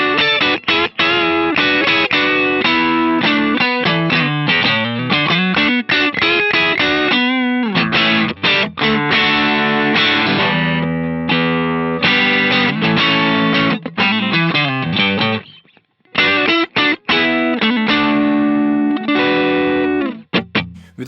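Electric guitar through a ToneX capture of a JHS amp pack clone, played as dense, loud distorted riffs with a mid-forward tone, continuous for about twenty seconds with brief pauses.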